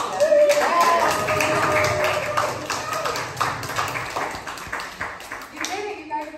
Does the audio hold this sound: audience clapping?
yes